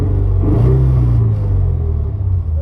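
A Lexus IS250 six-speed idles just after startup with heavy vibration, a loud, steady low rumble and shake close by, with no talk over it.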